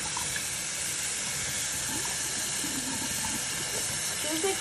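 Water runs steadily from a tap to rinse tie-dyed fabric, a continuous close hiss and splash that stays loud and unbroken throughout.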